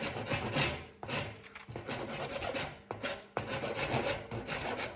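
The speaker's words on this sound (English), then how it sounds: "with a rasp, you're just pushing it ahead" Wood rasp pushed along a shillelagh handle to shape it: a series of close, rough rasping strokes, each several seconds long, repeats in a steady rhythm with short pauses between them.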